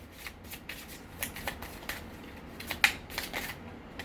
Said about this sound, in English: let's get some of these oracle cards